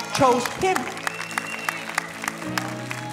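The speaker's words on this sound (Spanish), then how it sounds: "Pero dile fuerte ese aplauso." Short burst of audience clapping at a church service, rising quickly and thinning out, mixed with shouts and a sustained musical tone underneath.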